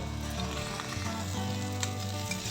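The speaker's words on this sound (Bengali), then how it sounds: "মেথি শাকটা ঘিয়ের মধ্যে একটু সাঁতলে নিয়েছি" Fenugreek greens sizzle and crackle steadily in hot ghee, a constant frying hiss close by with a low hum beneath as their water cooks off.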